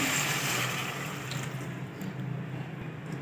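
Water poured into a pan holding cooking raw mango and jaggery, a steady splashing rush close by that tapers to a quieter, bubbling trickle.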